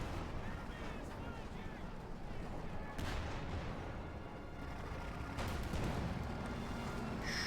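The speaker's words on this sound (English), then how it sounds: "the tank rifle going after the Stug, and there you go, landing a hit" Tank gunfire in Company of Heroes 2, a Sherman's gun firing on a StuG: dense battle noise with sharp cannon blasts around the three and five-second marks, heavy rumble throughout.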